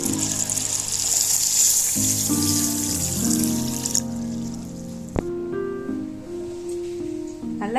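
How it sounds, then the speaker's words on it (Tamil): Pearl millet and fenugreek are washed in water in a kitchen vessel for bajra idli. Close sloshing and trickling go on throughout, with one sharp clink of a utensil partway through. "இது எல்லாத்தையுமே ஒரு 3 நேரம் கழுவி எடுத்துட்டு வந்துருவோம்."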